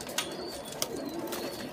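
Baghdadi pigeons coo softly in a loft, low burbling calls over a steady background hum, with a couple of brief clicks.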